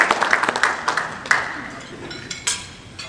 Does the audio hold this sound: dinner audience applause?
yes